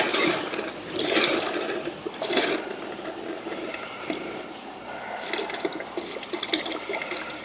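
A tap in a winterized summer cottage sputters and spits water in irregular bursts over a steady gushing flow, close and continuous, with no one talking.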